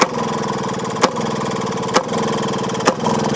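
A vintage Maytag 92 engine runs at a winter engine show with a steady, loud, chugging idle, punctuated by a sharp firing bang roughly once a second.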